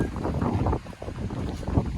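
Steady wind rushes and buffets the microphone near the sea, with a brief dip midway and a low rumble of water beneath, no voices.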